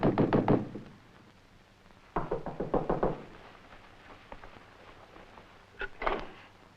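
A fist pounds on a locked door in three bursts of rapid heavy knocks, with pauses between and a quieter knock in the middle, close and loud with no voices.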